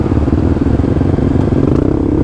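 Loud, close rumble of modified Kawasaki KLX 250 dirt bike engines riding together before dawn, a steady dense throb with rattly mechanical texture and no talking.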